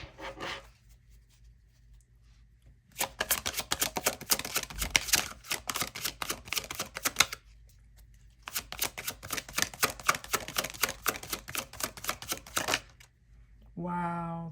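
A deck of tarot cards being shuffled and cut, two bursts of rapid crisp riffling clicks several seconds long separated by a quiet pause, close and fairly loud, with a voice starting at the end.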